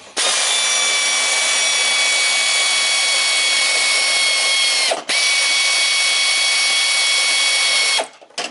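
A power tool drives a seat belt bolt into the floor of a 1965 Mustang, a loud, high whirring run lasting several seconds, pausing briefly, then resuming before stopping.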